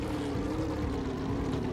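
A vehicle engine in the Jak and Daxter video game, a dense continuous motor drone with a steady low hum and watery, churning texture, held at constant loudness without pauses.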